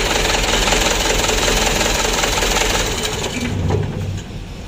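A freshly started engine runs roughly and unevenly before its idle is adjusted, a loud, steady mechanical clatter with a knocking undertone that eases slightly toward the end.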